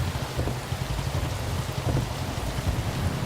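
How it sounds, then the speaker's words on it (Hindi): Steady rain in a film patters and hisses on a surface, with a low rumble underneath throughout. "बारिश हो रही है ना?"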